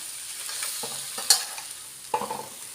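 Pad see ew noodles and vegetables being stir-fried in a pan, with a soft steady sizzle and two sharper scrape-and-toss bursts from the spatula, close and moderately quiet.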